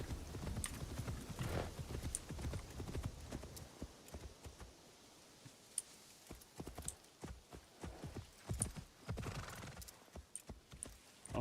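Horse hooves clip-clop at a gallop in the Assassin's Creed Shadows video game, with whinnies and crashing impacts in places, loud and close throughout the clip.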